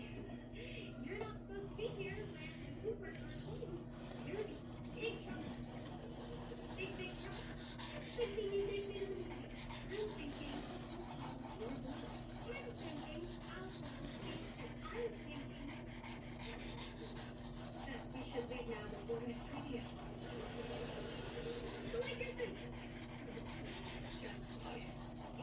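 A blade is sharpened on a cheap Chinese whetstone, giving steady rhythmic rasping strokes of steel on stone, close and moderately loud, with a faint background hum throughout.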